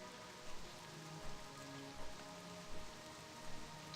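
Steady rain falling in Elwynn Forest in World of Warcraft, a soft continuous hiss of drops on surfaces with faint low rumbles swelling every second or so, no voices.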